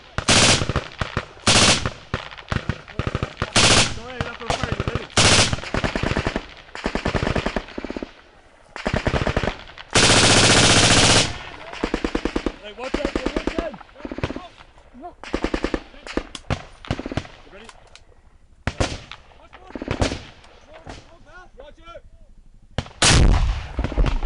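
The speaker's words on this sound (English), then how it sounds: "this will go onto the GPMG, or the General Purpose Machine Gun, which provides an Irish Ranger with a hell of a lot of firepower" A General Purpose Machine Gun of the British Army fires loud, sharp bursts of automatic fire, short and longer strings separated by brief pauses, close and dominating throughout.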